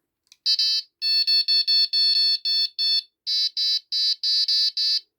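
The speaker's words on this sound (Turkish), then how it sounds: "Alarmımız şu an çalıştı." A Prologic carp fishing bite alarm beeps rapidly in a series of high, piercing electronic tones, about a dozen short bursts with a brief pause midway, loud and close.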